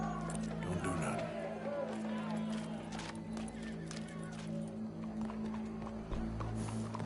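Horse hooves clip-clop steadily in Red Dead Redemption 2, heard beneath a low hum and game ambience, with voices talking over the steps.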